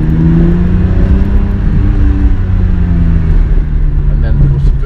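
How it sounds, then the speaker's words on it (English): A car drives through the tunnel beneath the Goodwood racetrack, its engine a steady, close, enclosed drone that holds an even level throughout with no break. "And here I am driving through the tunnel under the racetrack"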